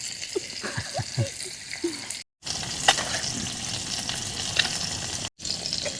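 Steady crackling sizzle of food frying in hot oil at a campsite on a fruit farm in Tarlac, Philippines, with a few clinks and scrapes of utensils early on; the frying continues throughout.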